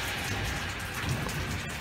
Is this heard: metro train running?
no